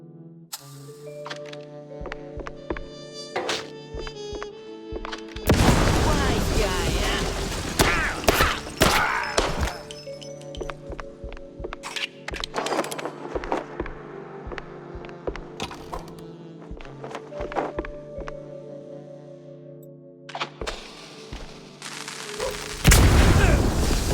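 Firecrackers going off inside a wooden attic in the Mouse: P.I. For Hire game, a run of loud sharp bangs and booms with creaking and a low hum over a steady musical backdrop.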